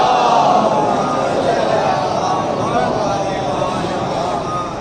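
Large Muharram mourning gathering in Bijnor chants slogans and salawat together, a loud sustained wall of massed voices that slowly fades toward the end.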